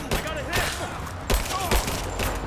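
Gunfire from Rise of the Tomb Raider, a run of sharp shots and bursts of fire with booming impacts spread across the moment, loud against a busy game soundscape.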